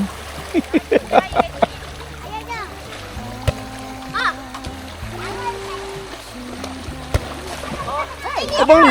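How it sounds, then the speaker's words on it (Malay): Water splashing as people bathe in a river, scattered splashes and sloshing amid lively children's voices and other people talking nearby. "Dah ramai dah yang datang nak mandi sungai."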